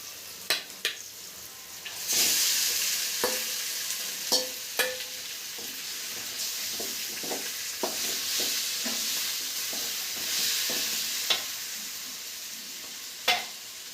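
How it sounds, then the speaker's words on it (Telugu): Chicken pieces tossed into a hot pan and stirred for a Sunday home-cooked dish, a steady loud sizzle running throughout with scattered scraping clicks of the spoon against the pan, no talking. "మనం ముందు కలిపి పెట్టుకున్న చికెన్ ఉంది కదా ఇది కూడా ఇందులో వేసేసుకోవాలి"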